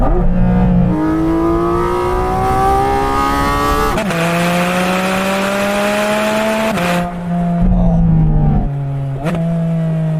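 A high-revving Porsche 718 Cayman GT4 RS engine climbs in pitch, drops sharply at each PDK gear change, and climbs again, loud and close with no talking.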